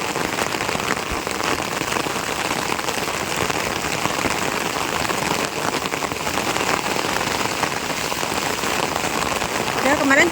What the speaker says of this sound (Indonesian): Ini 2 hari berturut-turut hujan terus.